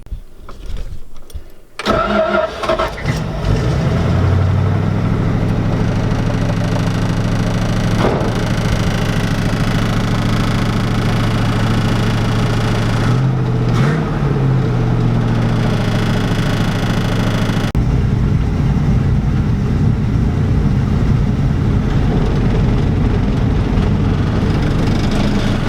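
An abandoned junkyard truck, sitting for 13 years, cranks and catches, then settles into a loud, steady idle with a slightly uneven, knocking rumble that holds for over twenty seconds, close by and with no talking.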